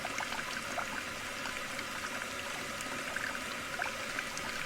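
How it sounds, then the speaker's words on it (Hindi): Water runs steadily from a washbasin tap indoors, a constant faint splashing stream with no voices. "ये आवाज वॉश बेसिन से आ रही है।"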